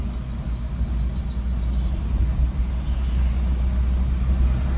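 A car accelerating on a highway during a driving lesson, its engine giving a steady, loud low rumble with road noise that holds evenly throughout, no talk over it.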